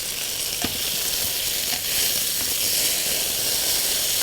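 Food sizzles and fries steadily in a pan while being stirred, a constant close hiss with a few sharp scraping clicks, part of a Bengali dinner of parotta flatbread being cooked.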